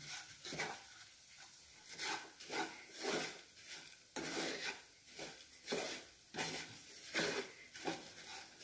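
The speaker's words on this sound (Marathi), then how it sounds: "मी गॅसवरून पॅन खाली घेतलाय तरीसुद्धा मी एकसारखं हलवत राहिली आहे" Browned Dharwad peda mixture stirred steadily in a pan taken off the gas, giving a run of soft, rhythmic scraping and rubbing strokes, fairly faint and with no voices.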